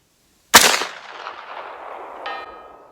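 A single sharp 9mm pistol shot from a SAR 109T cracks at the range, followed about two seconds later by a short bright ring as the round strikes a steel target downrange.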